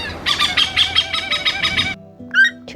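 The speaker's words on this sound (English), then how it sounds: "hornbill," A hornbill gives a rapid series of about six harsh, rhythmic squawking calls close by, then a short pause and two more brief cries.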